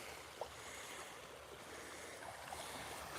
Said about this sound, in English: Pretty good creek here.